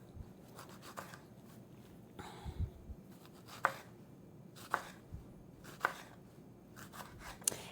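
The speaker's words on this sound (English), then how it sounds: "using a serrated knife to cut your tomatoes is always the best option because it will cut through the tomatoes without crushing them" Garden tomatoes being cut with a serrated knife: a series of quiet sawing strokes and light taps on a board, spaced about a second apart, close and with no talk.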